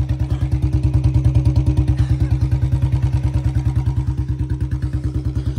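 Royal Enfield Bullet motorcycle engine straining in a tug of war, a loud, close, steady thumping single-cylinder beat with rapid even pulses throughout.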